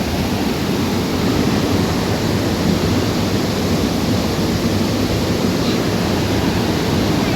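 Thusharagiri waterfall in Kerala, a broad, constant roar of rushing water, loud and close, steady throughout with no pauses or voices.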